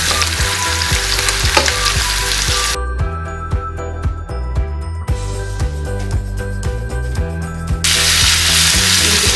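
Tomato and cucumber sauté in a hot pan for cucumber chutney, a loud steady sizzle broken by metallic clinks and scrapes of stirring.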